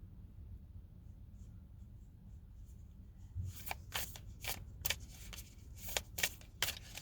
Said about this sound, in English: Sorry, it's a habit to just shuffle, you guys.